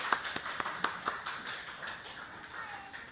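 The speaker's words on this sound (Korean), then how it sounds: "축복하는 박수 한번 하겠습니다." A church congregation giving a short round of blessing applause, a few distinct claps at first blurring into soft, scattered clapping in a reverberant hall, fairly faint.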